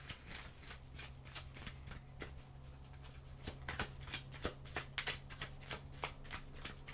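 A deck of tarot cards shuffled by hand, a fast rhythmic series of papery flicks and riffles repeating steadily, close and fairly soft, with no one speaking.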